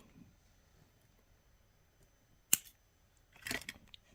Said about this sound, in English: So now we want to cut that piece of wire off.